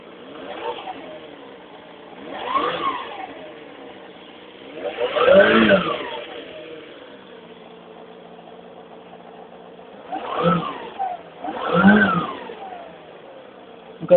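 A 1996 Suzuki GF250 motorcycle engine idles steadily and rises into several short throttle revs, close and clear, with two revs coming in quick succession near the end.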